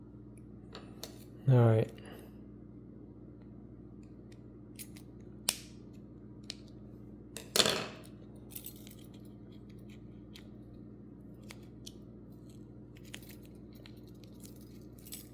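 Plastic Toyota Camry key fob shell cover being cut, with two short, sharp snipping bursts about six seconds apart and a few faint clicks, nearby in a quiet room; someone speaks briefly.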